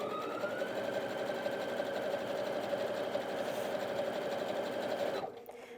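A Brother Inventio NV1850Q sewing machine stitches in one steady, even drone lasting over five seconds, close and clear, then cuts off abruptly.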